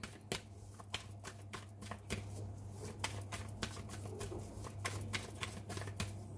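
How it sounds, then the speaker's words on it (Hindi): Tarot cards riffled and drawn from a deck, a steady run of crisp papery flicks and taps repeating close by over a constant low hum, with no one talking. "और कार्ड्स निकालते हैं।"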